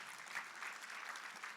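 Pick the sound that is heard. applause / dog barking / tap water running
applause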